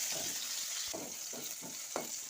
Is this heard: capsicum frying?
yes